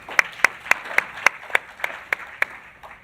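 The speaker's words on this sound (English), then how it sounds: "They deserve a round of applause" Sparse clapping follows a panel discussion, about a dozen distinct, evenly spaced claps ringing out fairly softly in a hall, as if from only a few hands.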